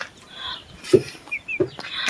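A few short chicken clucks nearby against a quiet outdoor background, with some faint bird chirps in between.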